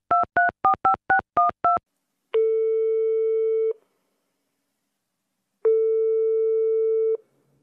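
A telephone call from France: seven quick touch-tone dialing beeps, then two long ringing tones with a silent gap between, clear and isolated with no voices.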